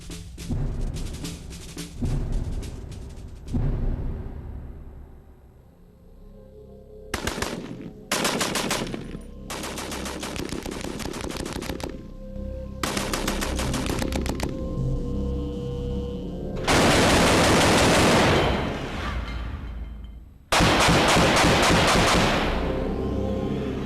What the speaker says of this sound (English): this marksman is going to use it to strafe a piece of Messerschmitt 109